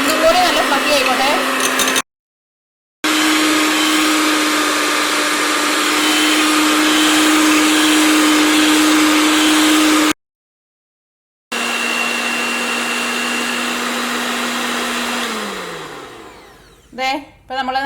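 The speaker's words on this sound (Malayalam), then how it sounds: "നമ്മൾ ബീറ്റ് ചെയ്യാൻ വേണ്ടി തുടങ്ങിയിട്ട് വെറും 2 മിനിറ്റ് ആയിട്ടുള്ളൂ അല്ലേ" Electric beater whipping dalgona coffee from instant coffee powder, milk and sugar, a loud close steady motor whine with two short pauses and a pitch drop as it winds down, followed by a few clicks.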